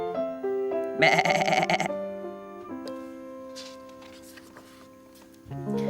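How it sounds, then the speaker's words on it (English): A sheep in a field bleats once in a loud, quavering burst that lasts about a second. Gentle sustained musical tones play around it, from a children's television programme. "This is the sheep that stood in the field and ate the grass."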